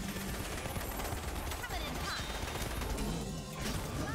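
Gunfire rattles in the online game Gigantic, a dense, steady stream of shots and impacts, heard alongside a player's voice.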